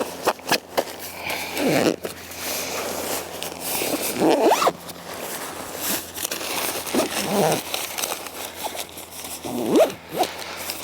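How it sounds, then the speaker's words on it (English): A zipper is drawn along the stuff sack of a Big Agnes Big House 4 tent in several long, raspy pulls with brief pauses, close and loud, while the fabric rustles and crinkles. "We just zip this stuff sack up."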